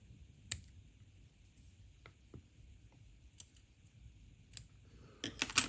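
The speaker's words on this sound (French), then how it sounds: "on vient couper l'excédent des fibres" Scissors snip excess fibres while a crane-fly pattern is tied at a fly-tying bench, a few faint crisp clicks scattered through near silence, with a denser cluster of snips at the close.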